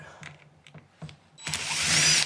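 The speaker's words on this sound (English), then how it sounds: "Grab the drill, and here's the fun part." A few faint taps and clicks, then a power drill whirs up loudly while taking apart a scrap VCR, running steadily to the end.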